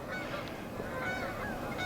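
A flock of geese on a far pool in a wilderness park honks continuously, many overlapping calls blending into a busy, moderately distant chorus.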